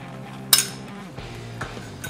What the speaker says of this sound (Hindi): सभी चीज़ों को अच्छे से मिक्स कर लेते हैं।